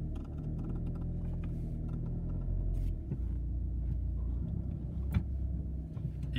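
A minibus creeps slightly forward on a driveway with the parking brake engaged, giving a steady low engine rumble and faint mechanical clicks and ticks, with no talking.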